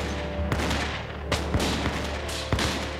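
Musket fire in a Revolutionary War battle: several sharp, loud shots crack out at irregular intervals, about four distinct reports, over a constant rumbling battle background.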